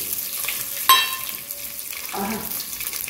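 Dried red chillies hit hot oil with fenugreek seeds for Telugu methi dal, a brief sharp crackle then a steady low sizzle, with a short burst of bubbling later.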